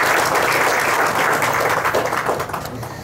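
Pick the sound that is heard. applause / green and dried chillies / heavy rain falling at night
applause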